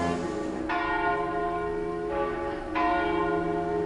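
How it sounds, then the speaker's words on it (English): Church bells from the Marinelli foundry in Agnone ring out in several struck peals, each hit blooming into a long, rich, overlapping hum, clear and fairly close. "Bells."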